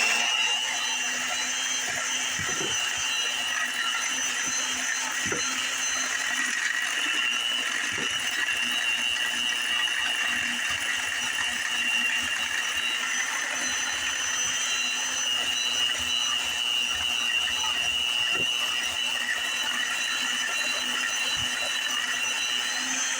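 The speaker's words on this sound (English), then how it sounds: "to see how we do with our Cuisinart mixer, hand mixer" A Cuisinart electric hand mixer whirs steadily while beating brown sugar, a continuous high motor whine with faint irregular clicks of the beaters against the bowl, close and uninterrupted.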